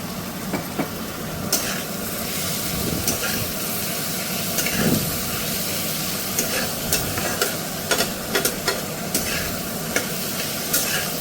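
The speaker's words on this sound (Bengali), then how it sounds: "এবার এটাকে একটু কষব একটু ভাজা ভাজা হয়ে গেছে" Small kachki fish frying in a pan with salt and turmeric, giving a steady close sizzle with scattered spatula scrapes and stirring clicks throughout.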